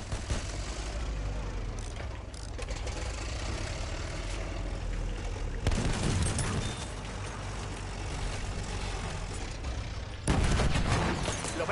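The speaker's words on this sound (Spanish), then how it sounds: "¡Ametralladora pesada de las suyas!" Sustained heavy machine-gun fire rattles through a video game battle alongside a rumbling engine, with louder bursts near the middle and end, under a player's talk.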